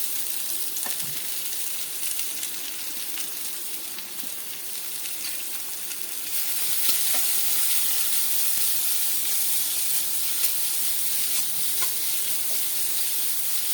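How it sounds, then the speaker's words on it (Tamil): Chopped onion dropped into hot oil in a kadai for a vegetable omelette, a steady hissing sizzle that grows slightly louder midway and continues evenly without speech. "இப்போ நான் ஒரு கடாயில் ஆயில் ஊற்றி வச்சுருக்கேன். இதில் ஆனியன் போட்டுடலாம்."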